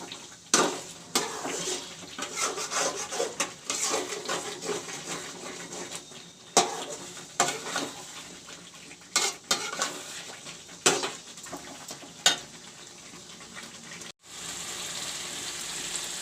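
Chicken sizzles and fries with masala in a pan while a utensil repeatedly scrapes and clanks against the metal in irregular strokes, close up.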